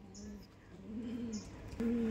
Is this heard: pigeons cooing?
yes